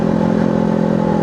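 A Honda Hornet motorcycle runs on a test ride, its engine giving a steady, loud, close droning roar with no break and no voices.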